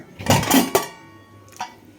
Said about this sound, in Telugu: కుక్కర్ మూత తీసి